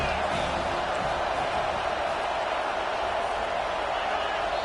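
Dense, roaring stadium crowd at a Tennessee versus NC State college football game near the goal line, a steady, loud wall of noise with no breaks.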